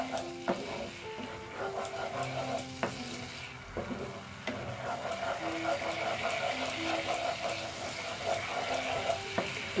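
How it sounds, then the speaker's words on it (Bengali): Doi begun, eggplant in yogurt, being stirred in a pan over low heat: a quiet, steady sizzle broken by scattered scrapes and knocks of the spoon, with brief bits of muffled talk in the background. "স্টিমটা কমিয়েই নেড়ে নিচ্ছি ভালো মতন।"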